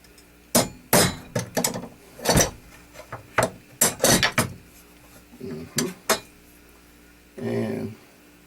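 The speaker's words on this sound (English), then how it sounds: "you just center punch your holes" Center punch struck with a hammer into a knife handle, a series of sharp metallic taps in uneven clusters, close and loud, with short pauses between groups.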